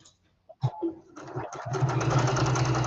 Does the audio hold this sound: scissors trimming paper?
no